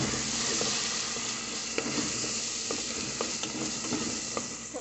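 Onion frying in a pan alongside beans, a steady close sizzle with occasional sharp crackles and stirring scrapes, no voices.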